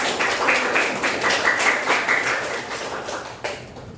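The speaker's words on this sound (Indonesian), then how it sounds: "Beri tepuk tangan buat teman-teman" Classmates in a school classroom clap together for several seconds, a dense, fairly loud patter of many hands that fades toward the end, with a few distinct claps standing out.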